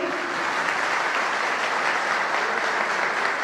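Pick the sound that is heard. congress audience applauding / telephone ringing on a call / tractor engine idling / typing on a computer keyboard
congress audience applauding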